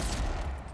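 A rifle firing in the fantasy video game Avowed, a dense burst of gunfire crowding the whole short moment, loud and close with no talking.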